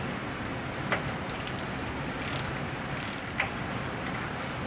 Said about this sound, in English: I'm going to use that 4-pin wrench, the 4-pin socket, and remove the covers on the travel arm gear first.